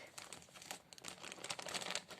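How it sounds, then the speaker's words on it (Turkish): A plastic shopping bag from a clothing parcel crinkles and rustles steadily as it is opened and torn, close and continuous with no talking. "Arkadaşlar poşeti yırttı ya"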